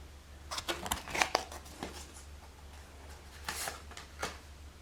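Playing cards in a card reading are handled and drawn close up, giving soft papery rustles and sharp flicks and snaps in uneven bursts against a quiet room hum.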